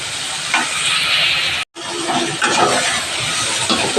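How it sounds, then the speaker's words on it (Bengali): Vegetables fry in a pan with turmeric and salt, a loud hissing sizzle with stirring knocks that cuts out briefly to silence, then continues close and steady. "নুন হলুদ দিলাম, দিয়ে এবার একটু সবজিগুলো একটু ভেজে নেব।"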